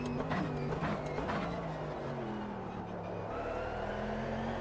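A Mercedes race car engine in Automobilista 2 drones at a steady, moderately loud level, with its tone shifting as revs change, and a voice comes in faintly at times.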